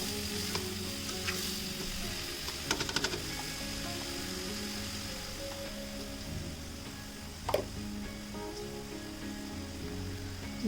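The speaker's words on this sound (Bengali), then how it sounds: "জিরার গুঁড়া হাফ চা চামচ দিয়ে একটু নেড়ে নিচ্ছি" Coriander and cumin powder stirred into frying spices in a pan for a chicken recipe: a steady, even sizzle runs throughout, broken by a few short scraping clicks.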